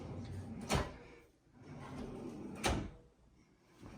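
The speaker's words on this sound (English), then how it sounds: "And this drawer moves too?" An IKEA bathroom cabinet drawer slides and shuts twice with soft thuds, about two seconds apart, against a quiet room.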